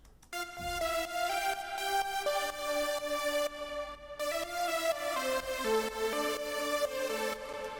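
Lead synth built with Ableton stock plugins, a bright harmonically rich melody of sustained notes, its parallel reverb ducked by sidechain compression so the tail swells up in the gaps.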